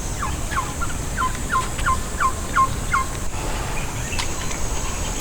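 A turkey gobbles in one rapid burst of repeated notes at moderate distance over steady outdoor background noise, then goes quiet; nobody speaks.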